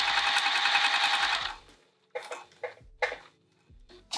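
A sewing machine stitching a quilted witchy hat runs in a loud, steady whirring burst, then stops and restarts in several short, close bursts of stitching.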